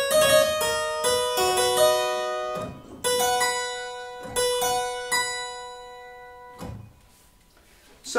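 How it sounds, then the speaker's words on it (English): Restored, transposable harpsichord played in its upper register: a run of bright plucked notes with sharp attacks and ringing tones in quick phrases, a pause, then more, alone and close. "And the upper part sounds like this."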